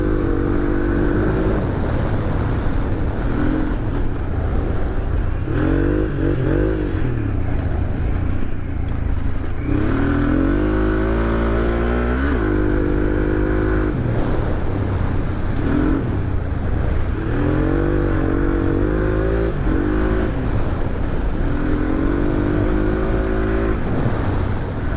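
A 62-horsepower motorcycle accelerating hard, engine revving loud and close with repeated rising pitch sweeps as it climbs through gears, continuous roar with no speech.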